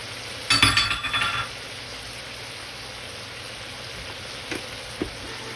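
A pot of red pepper, garlic and canned diced green chili for chicken and corn chowder, with a steady close sizzle, a short clatter of stirring near the start and a couple of faint clinks later.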